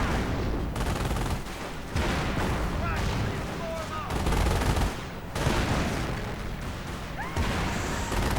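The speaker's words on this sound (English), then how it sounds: "Hetzers focusing down, machine gun fire, and main guns" Tank battle in a Company of Heroes match: Hetzer tank destroyers' main guns boom among continuous rattling machine-gun bursts and explosions, a loud, dense fusillade with a commentator talking over it.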